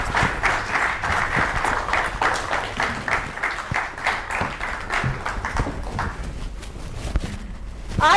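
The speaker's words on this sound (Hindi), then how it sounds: "जोरदार तालियों के साथ स्वागत कीजिए" A studio audience at a televised Hindi interview claps in welcome of a guest, a brisk, rhythmic applause that holds steady before thinning out near the end.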